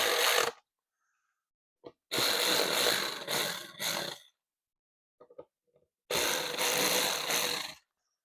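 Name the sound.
hand-tightening windscreen bolts on a BMW R1300GSA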